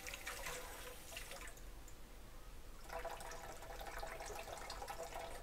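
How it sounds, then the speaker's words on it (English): Warm water pours for a chicken vindaloo curry, a continuous splashing trickle that fades briefly and then returns stronger, close by and with no talking. "let me put 2 to 3 tablespoons of warm water"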